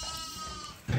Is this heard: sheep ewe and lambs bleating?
yes